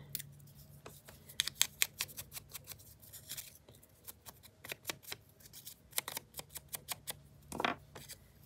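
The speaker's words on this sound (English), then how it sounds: "And we're going to tear this." Paper is torn by hand in short stages, producing close, crackly rips and sharp irregular snaps over a quiet background, ending with one longer, fuller tear.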